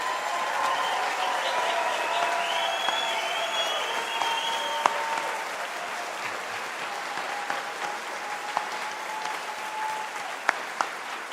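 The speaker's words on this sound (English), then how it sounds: "join me one more time in giving the class of 2023 such a big round" A graduation audience applauds the class of 2023 at a Faculty of Health ceremony, with sustained, even clapping from a large crowd throughout and occasional sharper individual claps standing out.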